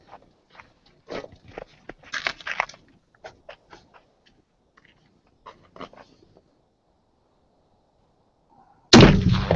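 A custom machined golf ball cannon fires one sudden, very loud boom near the end, after a stretch of quiet, scattered clicks and handling noises.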